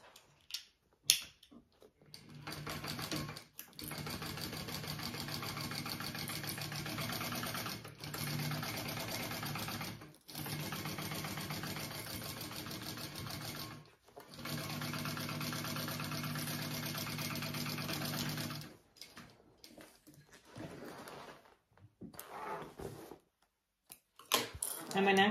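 A sewing machine stitches a seam on a hobo bag, running in several separate bursts of steady, whirring stitching broken by short pauses, close and moderately loud.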